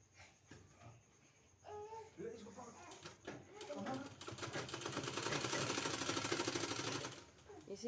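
A sewing machine stitches folded fabric for a narrow pant design, its rapid mechanical whirring building from short bursts into a steady, loud run that stops near the end, with some speech around it.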